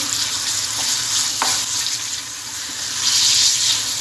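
Minced meat sautés in two or three tablespoons of oil in a pan, giving a steady close sizzle with a brief clink partway through, with no talking.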